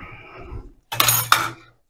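A kitchen knife set down among dishes in the wash makes a brief metallic clatter, two quick clinks after a soft bit of kitchen noise.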